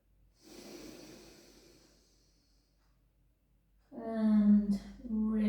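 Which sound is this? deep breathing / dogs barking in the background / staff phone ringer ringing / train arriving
deep breathing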